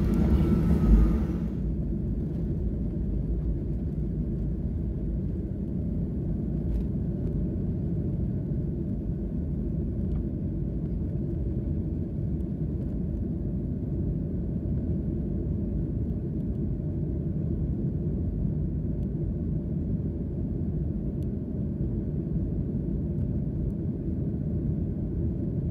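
Steady, loud low rumble of a Boeing 737-700 airliner's engines during takeoff roll, heard from inside the cabin on an AIR DO flight from Tokyo to Hakodate, continuous and unbroken with no talk.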